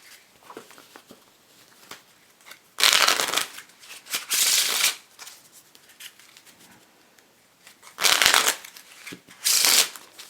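Playing cards being shuffled in several quick riffling bursts, crisp and close, separated by short quiet pauses with faint handling sounds.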